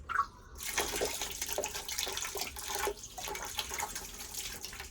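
Water leaking from a boiler valve fitted to an ultrasonic cleaner, running as a steady, fairly close splashing hiss that starts after a brief moment and continues without a break.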